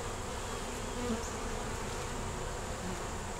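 Honeybees buzzing steadily around an open hive frame, a continuous dense drone with individual bees passing close, no talking.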